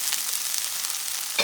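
Thinly sliced, washed eddoes sizzle steadily in a pot of hot seasoning, a close, continuous broadband frying hiss with faint stirring clicks near the end.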